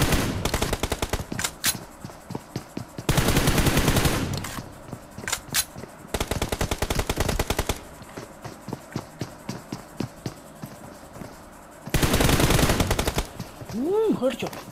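Gunfire in a shooting video game: sharp single shots and rapid bursts rattle in short clusters, with several longer automatic volleys standing out, while players talk excitedly between them.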